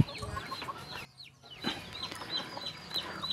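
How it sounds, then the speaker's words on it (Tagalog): A chicken feeding on sardines gives soft clucks and small pecking sounds close by, with a brief quiet pause in the middle and no talk. "Kusog kayo mukhaon og sardinas ang atuang manok."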